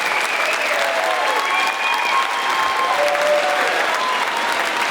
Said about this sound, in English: if you keep clapping